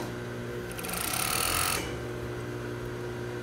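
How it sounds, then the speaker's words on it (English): A serger overlocks and trims a dress fabric edge as the seam is finished, a fast whirring mechanical hum that swells briefly in the middle over steady background machine noise. "since we're serging each edge of the fabric apart"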